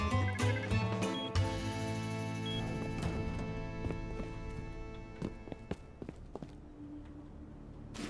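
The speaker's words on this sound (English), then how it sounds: "I heard them all slowly jumping and creeping around above me." Players in the survival game Rust jumping and creeping around on a floor overhead, heard as soft irregular thuds and footstep taps over a steady low ambient game hum, with a few sharper knocks near the end.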